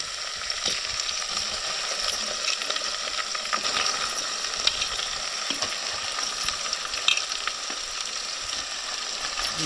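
Marinated chicken frying in tempering oil, a steady crackling sizzle with scattered pops and occasional stirring clinks, close and continuous with no talking.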